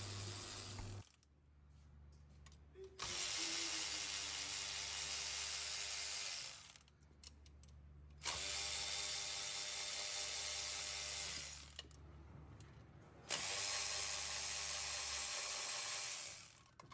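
Bolts being removed from the CV cover of a Massimo Buck 250 UTV, with three long, loud bursts of close mechanical ratcheting separated by short pauses.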